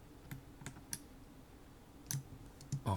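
Sparse, crisp clicks of a computer keyboard and mouse, a few scattered taps then a quick cluster near the end, close and quiet with no talking, during 3D rendering work.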